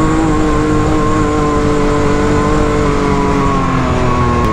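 A 200HP Can-Am X3 side-by-side in four-high climbs a steep Kentucky grade, its engine held at a loud, close, sustained rev with rising harmonic whine and no talk.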